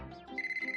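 A telephone in the Inuyasha anime rings briefly, a short electronic trill of rapid repeated pulses lasting under a second, clear and alone.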